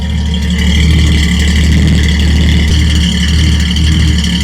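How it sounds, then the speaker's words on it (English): A 6-cylinder car engine runs steadily through a single-chamber stainless-steel muffler, a loud, close, even hum with a low rumbling drone and no talk over it. "The muffler is only a single chamber, but with the 6-cylinder, it quiets it down pretty good."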